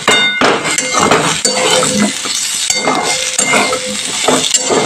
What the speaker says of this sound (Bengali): এবার মশলা দিয়ে আলুটাকে আমি ভালো করে কষিয়ে নিয়েছি।